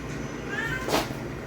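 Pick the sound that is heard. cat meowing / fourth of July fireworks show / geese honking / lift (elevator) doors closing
cat meowing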